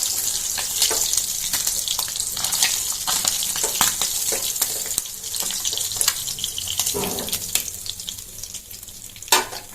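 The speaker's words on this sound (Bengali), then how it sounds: "আর এখন একে একে সবগুলো মাছ ভেজে নিচ্ছি।" Jatka fish frying in oil in a pan, a steady dense hiss of sizzling with scattered crackles and pops throughout, close and fairly loud with no talking.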